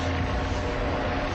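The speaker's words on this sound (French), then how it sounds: "Et des hélicoptères survolent la cité durant 3 jours." Helicopters flying over the Villeneuve housing estate in Grenoble during a large police operation: a loud, steady, broadband engine and rotor roar that fills the whole clip with no voices.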